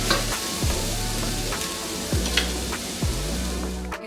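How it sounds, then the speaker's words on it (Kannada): Masala paste for a green beans sabzi frying in a pan, with a steady close sizzle broken by a few scraping stirs of a spoon, heard alone without speech. "ಈ ರೀತಿ ಪೇಸ್ಟ್ ಹಾಕೊಂಡು ಇದರ ಹಸಿ ಘಾಟು ಹೋಗೋ ತನಕ ಇದನ್ನು ಫ್ರೈ ಮಾಡ್ಕೋಬೇಕು."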